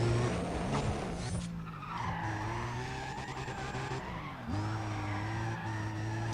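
A car drifting in the racing video game Need for Speed, with sustained engine drone and long tire skids and squeals that break off and resume, loud and close, with no talk.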